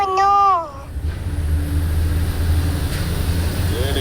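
A truck climbs a mountain ghat road near Thoppur slowly in fourth gear. Its low, steady engine drone holds throughout, and a brief horn-like tone sounds at the start.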